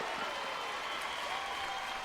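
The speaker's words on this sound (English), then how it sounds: "Tiger faithful starting their cheering" LSU Tiger fans cheer and clap at a college softball game against Ole Miss, a steady, distant wash of crowd applause and noise holding evenly throughout.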